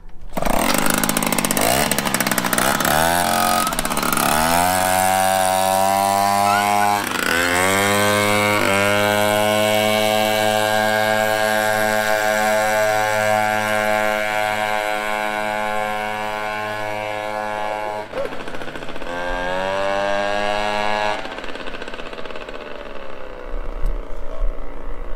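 A Peugeot 103 SPX moped with a Doppler variator fires up and revs, its small two-stroke engine rising and falling in pitch through repeated throttle blips, loud and close, before dropping back near the end.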